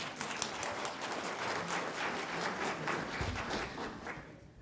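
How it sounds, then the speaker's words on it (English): A crowd applauds at the 2017 Tallahassee Future Leaders Academy graduation and closing ceremony, a soft, even wash of clapping from many hands heard from some distance, tapering off at the end. "Big round of applause, please."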